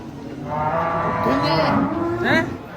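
A humped cattle, a giant zebu-type cow unloaded from a truck, gives a single drawn-out moo that rises at the end, loud and close.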